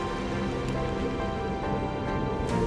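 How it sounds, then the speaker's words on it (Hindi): Monsoon rainwater pouring down stone steps on a 600-step hill climb near Lonavala, a dense continuous rushing wash of water, steady and close with no voices. "मॉनसून में बारिश का पानी इस तरह स्टेप से नीचे गिरता है।"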